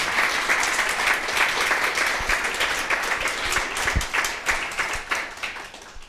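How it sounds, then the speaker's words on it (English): Audience clapping at the close of a digital health panel discussion, a fairly loud applause with distinct individual claps audible in the mix, steady for several seconds before tapering slightly. "Now you can applause"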